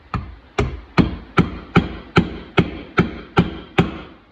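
A socket is hammered onto a 1 3/4 inch main crank bearing, giving ten sharp, evenly spaced metallic blows at close range with no talk.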